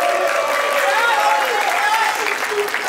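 Crowd at a Brazilian rap battle cheering and clapping loudly, a dense continuous wash of applause with shouts and whistles throughout.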